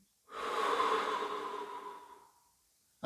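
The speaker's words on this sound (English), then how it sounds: "Breathe in" One long, slow diaphragmatic in-breath, close to the microphone, swells quickly and then fades over about two seconds before silence.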